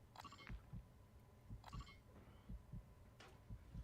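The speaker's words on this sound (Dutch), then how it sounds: "Ja, de hartslag hoorde ik nu ook" A heartbeat effect in Call of Duty MW3 Warzone gives faint, regular low thuds in close pairs, with a few soft higher chirps over a quiet background.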